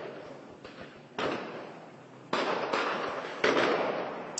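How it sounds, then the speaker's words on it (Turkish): Controlled detonation of mines and improvised explosives at an ammunition depot in Afrin, heard as a series of distant blasts, each a sudden rumbling burst that decays slowly, about four in quick succession with crackling between. "mayınlar ve el yapım patlayıcılar şu anda kontrollü bir şekilde patlatılıyor"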